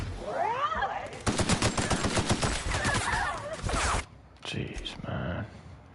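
Rapid automatic gunfire rattles in The Outer Worlds, a dense close burst of shots lasting several seconds, then a brief pause and a shorter burst, with a voice talking over the shooting.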